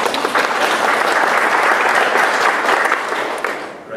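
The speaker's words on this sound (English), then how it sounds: "give me a round of applause" A lecture audience at a brain-stimulation talk bursts into a round of applause, dense and loud clapping that holds steady before thinning out and fading at the end.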